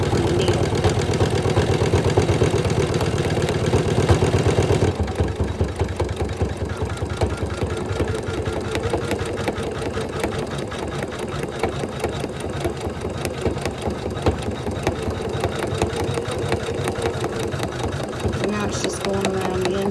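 A Janome 500e embroidery machine sews a satin stitch onto a hat, running as a steady, fast mechanical chatter of needle strokes that is louder in the first few seconds, then continues evenly and close by.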